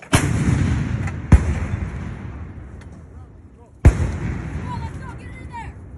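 Paratroopers fire an artillery gun during a fire mission, with two loud sharp booms several seconds apart, close by and echoing, while a crew shouts over steady outdoor rumble.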